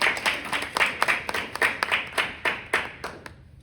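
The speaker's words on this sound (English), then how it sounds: "Let's give her a big round of applause." An audience at a library financial literacy fair applauds a presenter on a Saturday afternoon. Steady, fairly dense hand clapping from a small crowd carries on for a few seconds, then quickly thins and fades out.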